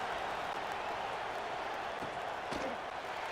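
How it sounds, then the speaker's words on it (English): Stadium crowd noise in a college football video game, Michigan vs Michigan State, a steady dense roar of a large crowd after a score, loud and continuous with no talk over it. "this crowd is buzzing after that last score"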